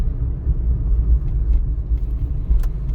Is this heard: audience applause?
no